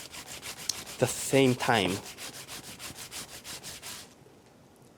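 Turnip being grated in a kitchen during plant-based cooking, a steady rhythmic rubbing scrape repeating close by, with a brief stretch of talk partway through before the grating fades out.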